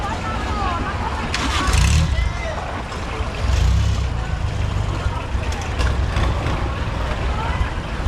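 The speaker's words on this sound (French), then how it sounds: "Et voici un bateau à moteur." Motorboat engine at a Bangkok floating market, a steady low rumble close by with louder surges, mixed with busy market ambience and voices talking.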